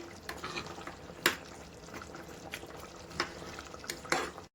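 Garam masala being stirred into mutton curry in a pan, Rayalaseema style: a steady close wet scraping and churning with a few sharper spoon knocks against the pan, no talking.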